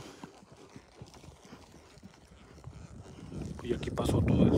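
Horse hooves clip-clop on a rural path near a riverside cornfield in Sonora, a steady faint patter that grows louder and closer toward the end amid wind noise.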